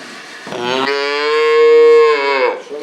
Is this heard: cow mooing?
yes